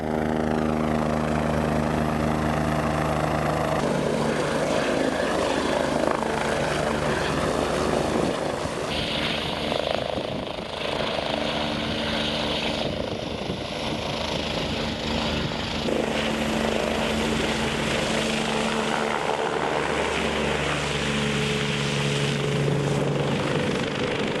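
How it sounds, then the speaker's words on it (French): The Chamonix mountain rescue helicopter flies in the mountains, its rotor and engine a loud, steady drone that holds the whole time, swelling and easing a little as it moves, with no talking over it. "Voilà l'hélicoptère du secours en montagne de notre région, de Chamonix."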